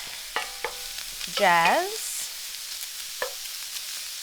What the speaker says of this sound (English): I am going to cook my onion down on this side of the pan